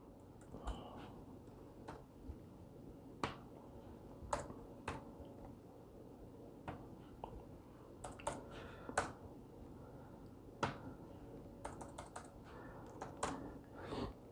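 Typing on a computer keyboard, with scattered key clicks in uneven bursts across a quiet, steady room hum, close and faint, with no talking.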